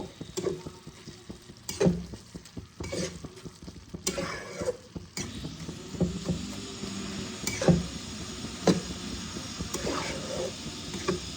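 Shredded cabbage is stir-fried in a pan for a Bengali fish-head cabbage dish, producing a soft, continuous sizzle broken by scraping stirs and occasional sharper clinks. The sound is moderately quiet and close, with no speech.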